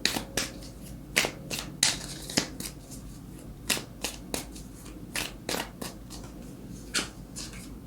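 Tarot cards are shuffled by hand, giving a steady series of crisp, close riffling snaps and flicks at an uneven rhythm over quiet room tone, with no talking.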